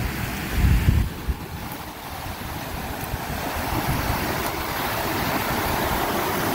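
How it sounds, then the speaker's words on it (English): A waterfall in the Hercules-Glades Wilderness Area roars as a steady, broad outdoor rush, with wind buffeting the microphone in the first couple of seconds. "One more look at the falls."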